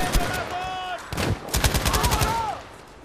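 A heavy gun fired from the hip in Battlefield V: rapid, loud bursts of close gunfire in two clusters over a few seconds, with brief voices between and over the shots.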